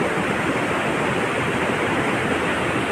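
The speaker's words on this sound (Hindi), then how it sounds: "इतना शोर हो रहा है इस नदी का बहुत ज़्यादा" A small Himalayan river rushes loudly in a steady, dense roar of flowing water that stays constant throughout, close by and with no voices.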